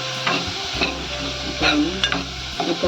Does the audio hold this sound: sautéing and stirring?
yes